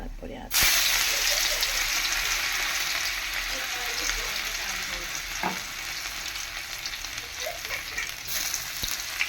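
Oil crackles and sizzles in a kadai (wok) as a steady, loud, broadband hiss that starts suddenly and continues without letup, with a few faint knocks underneath.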